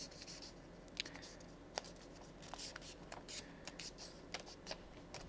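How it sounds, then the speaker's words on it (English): A sheet of paper is folded in half for a Golden Eagle paper plane, giving faint, scattered crinkles, taps and soft rustles against a quiet room hiss. "make my fold in half first"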